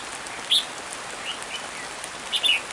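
Steady rain patters through a stormy downpour, a soft continuous hiss broken by a few brief higher chirps, with no one speaking.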